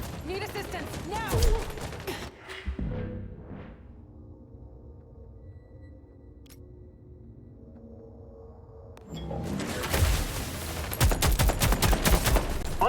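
Gunfire in a firefight in Expanse: Osiris Reborn, dense rapid bursts of shots, then a hush with a lingering hum, and another heavy volley. Voices shout briefly among the shots.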